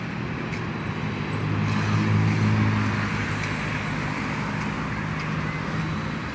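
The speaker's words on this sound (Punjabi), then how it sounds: "ਤੇ ਟ੍ਰੈਫਿਕ ਤਾਂ ਹੈਗੀ ਪਰ ਇਹਨਾਂ ਸ਼ੋਰ ਸ਼ਰਾਬਾ ਨਹੀਂ" Road traffic in Malaysia, on a road with mountains in view, forms a steady, even roar of passing cars and heavier vehicles with no distinct horns or voices.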